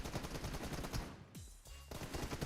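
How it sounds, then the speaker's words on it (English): Rapid automatic gunfire aimed at a ceiling in the PUBG Mobile game, a dense, loud burst of repeated shots that pauses briefly midway and then resumes, with no talking. "Why shooting the ceiling?"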